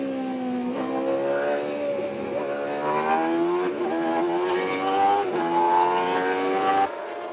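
1991 Formula 1 race cars scream past on track, their high-pitched engines rising and falling through several rapid gear changes, loud and close before cutting off sharply near the end.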